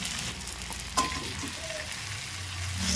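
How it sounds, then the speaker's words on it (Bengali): Fried crab and potatoes being sautéed in masala for a Sundarbans crab kosha, with a soft continuous sizzle and occasional stirring scrapes and knocks, close but fairly quiet and free of talk. "ভেজে রাখা কাঁকড়া আর আলু দিয়ে আরও খুব ভালোভাবে কষে নেবো"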